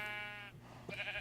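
Sheep bleating in a retro 8-bit style video game, a sustained wavering bleat, then a short pause and another bleat, loud and close with no talk.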